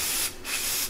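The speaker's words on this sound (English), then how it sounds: "I always spray all the oiling and bearing sort of surfaces to the oil passages" Aerosol or spray-gun oil misted onto the bearing and oil passage surfaces of a 13B rotary race engine during the build, a close hiss that sprays, stops briefly, then sprays again.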